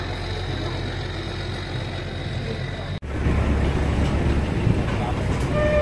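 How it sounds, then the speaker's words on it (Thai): A river ferry's engine drones steadily on the crossing from Wat Pho to Wat Arun in Bangkok, the rumble stepping up louder midway, with voices faintly in the background. "นั่งเรือข้ามฝั่งไปวัดอรุณนะครับจากวัดโพไปวัดอรุณ"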